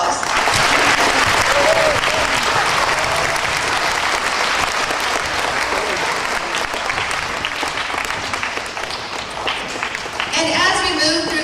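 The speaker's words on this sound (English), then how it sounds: "so another round of applause" A crowd in a school room gives a long round of applause, loud and continuous clapping that carries on for about ten seconds before a voice starts speaking as it dies down.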